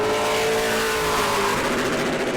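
A pro late model stock car thunders around New Smyrna on a qualifying lap, its loud engine roaring close and steady with a slight pitch drop as it passes.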